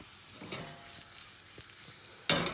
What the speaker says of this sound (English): the pan is definitely up to temperature. So now I'm going to add the barbecued beef.